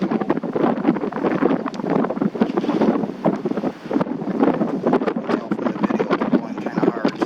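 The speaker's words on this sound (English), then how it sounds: "And the wind is blowing today" Hard wind blows outdoors during an oil change on a Kubota BX2380 tractor, buffeting the microphone in loud, uneven gusts that continue throughout.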